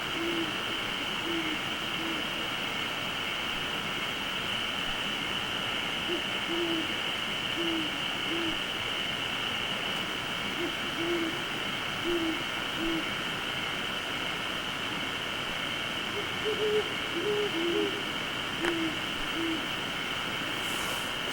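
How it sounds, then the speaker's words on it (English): Owls hooting at night near a bear hunting camp, a series of short paired hoots recurring at intervals, moderately distant, over a steady insect-like drone with no talking. "It sounds like we have some owls around here serenading us tonight."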